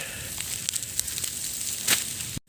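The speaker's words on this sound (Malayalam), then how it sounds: "കാറ്റ് കൂടിയതിനു ശേഷം നല്ല തീ കത്താൻ തുടങ്ങിയിട്ടുണ്ട്." Wildfire burning across a hillside in Malappuram, Kerala, with scattered sharp crackles and pops over a steady, windy, rushing roar, no voices.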